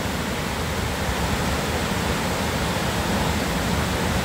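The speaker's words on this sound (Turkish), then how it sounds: "Şu anda Nisan ayı olduğu için suları çok bol akıyor." Gürleyik waterfall running full with abundant spring water in April, a dense, steady broadband roar of falling water that holds constant and close throughout, with no talking.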